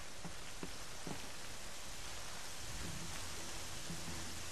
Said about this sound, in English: Holy crap, it's starting to rain.